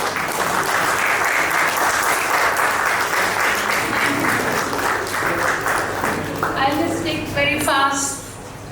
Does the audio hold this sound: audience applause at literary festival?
yes